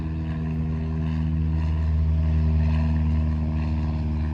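An O-290 engine on a Thorp aircraft runs steadily nearby, a loud, even propeller drone with strong low harmonics and no change in pitch, without any talk.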